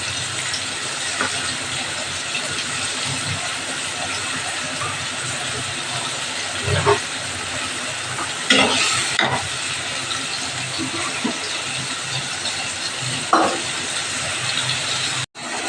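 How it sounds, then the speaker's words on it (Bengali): Spice masala for fish curry fries in a pan with a continuous loud hiss and sizzle, marked by a few scraping stirs at intervals. "এইবার একটু ভালো করে কষিয়ে নেব হাফ কষাবো"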